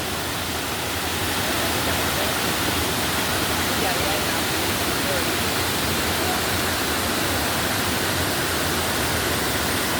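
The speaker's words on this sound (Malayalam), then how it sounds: "അരുവിക്കുഴി വാട്ടർഫോൾസ്." Aruvikuzhy waterfall near Kottayam roars as a dense, unbroken wash of rushing water, loud and steady from start to finish with no other sounds standing out.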